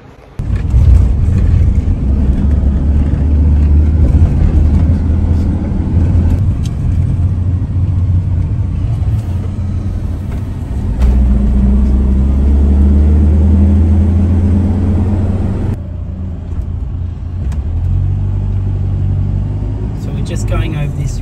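A car's engine rumbles steadily as it crosses a one-lane bridge in Kangaroo Valley, NSW, close and continuous with road rumble, while a person talks over it.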